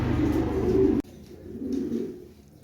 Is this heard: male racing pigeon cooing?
yes